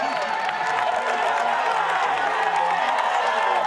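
A roadside crowd at the Tour de France 2011 cheers and claps steadily as riders pass, a dense, loud wash of applause and whoops that continues without a break.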